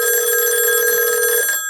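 A rotary telephone bell rings on a call through a Raspberry Pi PBX, one loud continuous metallic ring close by lasting about one and a half seconds before stopping.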